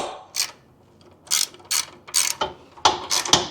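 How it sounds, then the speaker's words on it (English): A hand ratchet tightening fog light bolts on a Jeep Wrangler, giving short bursts of rapid clicking separated by pauses, close and clear with no talking. "I will go ahead with my ratchet and I will start to tighten it down."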